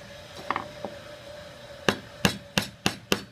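Sharp hammer blows strike wood, a few scattered taps followed by five evenly spaced, louder knocks, close and without talk.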